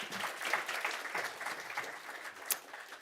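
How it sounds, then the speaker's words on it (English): Steady clapping from a crowd, a broad continuous patter of many hands lasting throughout, fairly close and even in loudness. "a round of applause"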